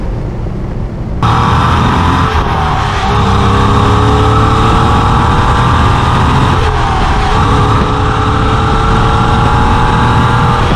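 The air-cooled flat-six boxer engine of a 1994 first-series Porsche 993 Carrera kicks in abruptly and drones loudly at steady cruising speed, with slight shifts in pitch and no voices.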